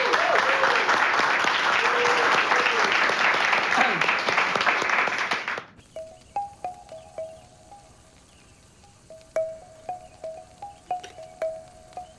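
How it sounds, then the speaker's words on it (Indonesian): A crowd claps loudly and steadily for several seconds, then the applause cuts off, leaving quiet with scattered faint chirps and taps. "Tepuk tangan buat Babin kita."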